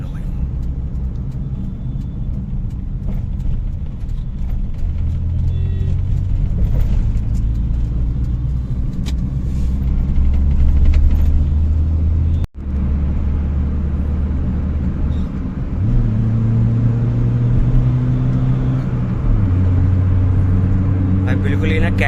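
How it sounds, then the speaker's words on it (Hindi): A Hyundai Santro Xing hatchback with a newly replaced fuel pump motor drives along, its steady engine hum and road rumble continuous and close, with a brief dropout midway before the engine note resumes and shifts pitch. "अभी मैंने 2 बारी ट्राई ले लिया और गाड़ी मस्त भग रही है"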